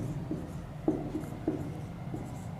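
Pen scratching across paper while a math solution is written out, a steady run of soft strokes with a few sharper taps, close and fairly quiet, no talking.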